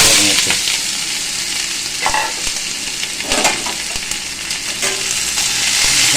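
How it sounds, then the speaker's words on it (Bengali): Onions go into hot oil in a pan for a Bengali poppy-seed onion dish, making a loud, close, continuous sizzle with several scraping stirs spread across the span. "তেলটা গরম হয়ে গেছে এবার আমি পেঁয়াজটা দিয়ে"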